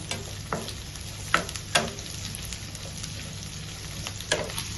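Onion and green chilli fry in a pan as the base for a North Indian green peas masala, with an even sizzle and a few sharp spatula knocks and scrapes.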